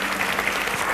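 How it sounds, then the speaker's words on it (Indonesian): A church congregation claps for Jesus during a Philip Mantofa sermon, a full, steady burst of applause filling the hall for about a second. "Kasih tepuk tangan untuk Tuhan Yesus."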